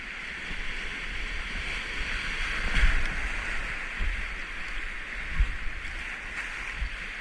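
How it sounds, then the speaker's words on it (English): Waves slap and wash against a small boat, with steady broadband water and wind noise and a few louder splashes near the hull. "Here comes a good wave."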